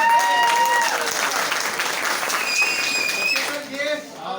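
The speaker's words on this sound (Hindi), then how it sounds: "इस बार जोरदार तालियां के लिए" Audience applause at the opening of a Vestige shop in Motiganj, Siddharth Nagar: a burst of dense, close clapping that fades toward the end, with voices audible beneath it.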